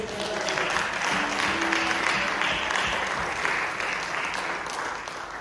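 A church congregation claps together in a sustained, even wash of applause, moderately loud and continuous, with faint voices underneath.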